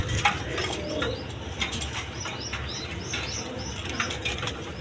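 A pair of racing pigeons in a cage, soft repeated cooing and chirps with flapping wings over a rumbling close background.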